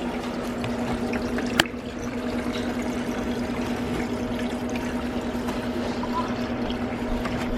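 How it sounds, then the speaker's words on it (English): Water dumped out of a bucket after cleaning a tank makes a steady, close rush of pouring and splashing that runs the whole time, with one sharp knock near the start and a low hum underneath. "Now we got to dump the water out"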